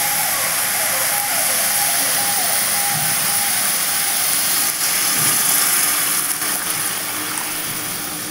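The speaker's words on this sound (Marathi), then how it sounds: "त्यामध्ये आपण आता पाणी घालून घेऊया." Water is poured into a pan of cooking green peas curry, giving a steady, loud rushing pour that runs unbroken for about eight seconds.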